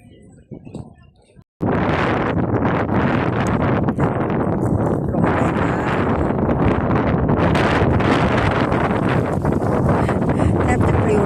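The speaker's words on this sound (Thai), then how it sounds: "วันนี้ลมแรงมีตลาดนัดแต่ว่าลมแรงมาก" Strong wind buffets the microphone with a loud, continuous roar at an outdoor riverside market on a cold day, coming in abruptly after a brief quieter opening.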